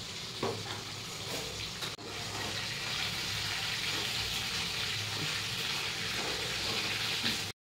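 Spice paste for a hilsa fish curry gravy frying in a pan, giving a dense, continuous sizzle with a few utensil knocks, close and steady before cutting off abruptly, with no talking.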